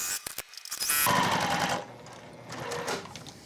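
A sewing machine stitches a tab onto an upcycled denim iPad sleeve, with a few clicks and handling noises first, then a short whirring run of stitching followed by softer mechanical rumble, close and fairly quiet.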